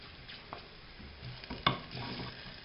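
Food sizzles in a pan with herbes de Provence as a utensil stirs and scrapes, with a sharper clack of metal on the pan partway through, before chopped mushrooms are added.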